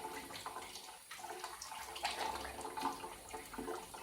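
Water running steadily from a tap while dates are rinsed by hand, a continuous close splashing wash with small shifts in flow and no talk.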